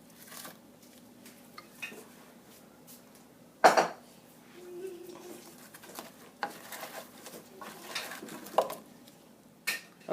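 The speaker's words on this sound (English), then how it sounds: "now I'm just going to add the wings and make sure that all get coated" Chicken wings tossed in sauce in a pan with the heat off, giving soft scattered clinks and scrapes of utensil on pan, a sharper clatter near the start and a few light knocks later.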